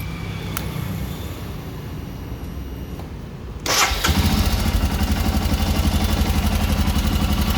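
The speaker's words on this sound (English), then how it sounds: "So here how it sounds on idle." A Royal Enfield Himalayan 411cc motorcycle fires up after a quiet pause and settles into a steady, close, thumping single-cylinder idle that continues without talk.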